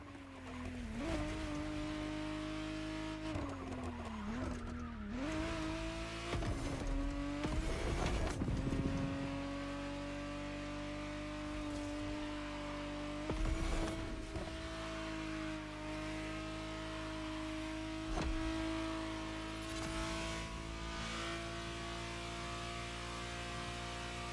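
A 1991 Ferrari Testarossa 512 TR in The Crew Motorfest, its engine holding a steady droning tone with brief rev shifts and tire squeals, continuous and close, no talk.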